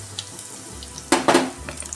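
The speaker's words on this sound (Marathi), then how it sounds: "मग टाकते हिंग" Asafoetida dropped into hot oil that already holds cumin seeds, while cooking stuffed eggplant, giving a brief loud sizzle burst after a quiet start and then a short fading crackle, with no voice.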